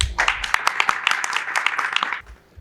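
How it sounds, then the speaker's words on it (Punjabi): An audience at a gathering in Lahore breaks into hearty applause, a dense burst of many hands clapping for about two seconds before it fades out. "ਸਭ ਸੁਨੀਲ ਭਾਈ ਵਾਸਤੇ ਘੁੱਟ ਕੇ ਤਾੜੀਆਂ ਮਾਰੋ।"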